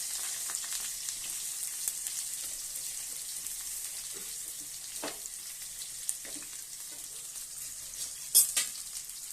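Bitter gourd sautéing in a hot pan after garlic and curry leaves, a soft steady sizzle with occasional stirring clinks and scrapes, one sharper clatter near the end.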